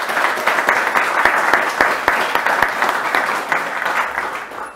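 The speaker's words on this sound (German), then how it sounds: "Und einen Applaus." An audience at a rail-industry panel event claps in a sustained burst of applause, with sharp individual claps standing out near the microphone and the sound tapering off at the end.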